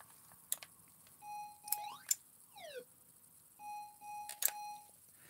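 Electronic bell chimes ring in the Amstrad video game Hunchback. Bright, clean tones sound in short bursts, some gliding up or down in pitch, with small clicks between them and quiet gaps around each chime.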